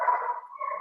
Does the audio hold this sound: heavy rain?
no